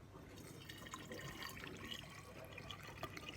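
Liquid pours steadily into a container, a faint continuous trickle and splash with scattered drips, close and unaccompanied by talk.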